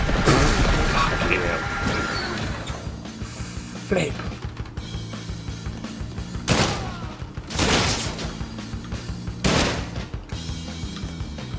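In the video game Sunset Overdrive, enemy gunfire crackles in dense bursts mixed with heavy impacts and game effects, loud and busy, while a player talks over the action.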